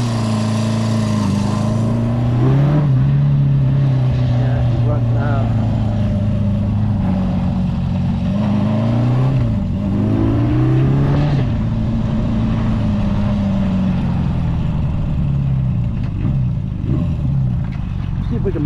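A Honda CB350F motorcycle engine, recently rejetted, runs loud and close on a test ride, its note rising and falling through revs and gear changes while someone talks over it.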